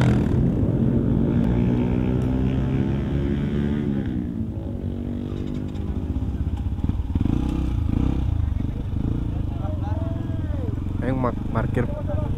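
A large group of more than twenty dirt bikes and supermotos, CRF, KLX, D-Tracker and a Yamaha WR155R among them, rumbles steadily nearby on a Sunday-morning group ride, with voices talking over the continuous engine drone.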